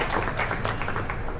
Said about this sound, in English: a big round of applause for our CEO